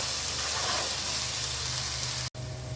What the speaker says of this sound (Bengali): এখন আমি এখান থেকে দুইটা তিন চামচ পেঁয়াজ পেস্ট এক করে সামান্য ভেজে নিলাম